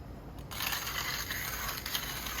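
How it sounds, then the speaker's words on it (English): A coffee grinder crushes beans for a pour-over brew, with a close, continuous gritty rasp and clatter that starts after a brief pause and runs steadily to the end. "For this grinder, I'm gonna have to fill it up, grind it down some, and then add the rest."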